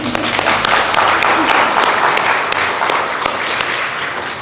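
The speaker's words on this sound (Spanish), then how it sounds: "Un aplauso, por favor, para Susana" Audience applause at a panel event on science and education journalism: dense, steady clapping from a crowd, loud and sustained throughout with no speech over it.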